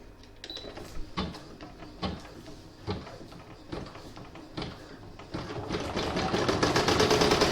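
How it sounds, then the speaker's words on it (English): A sewing machine stitches the backing onto a Halloween coaster. Short, evenly spaced bursts of stitching with soft knocks between them give way to a fast, continuous run that grows steadily louder. "now I'm going to pop it back in my machine, and it's going to stitch the backing on"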